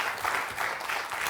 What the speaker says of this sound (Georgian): აპლოდისმენტები ჭირდება ამ ყველაფერზე რა თქმა უნდა